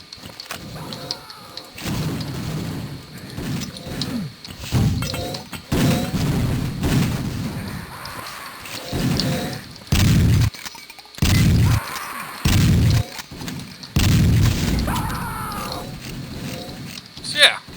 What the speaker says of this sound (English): Let's drop a grenade in there and get the hell out